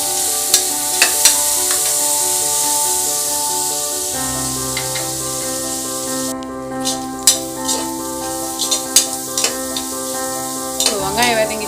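Onions fry with turmeric and green chilies in a pan, giving a steady loud sizzle while a utensil stirs and scrapes in short bursts, with a steady background hum.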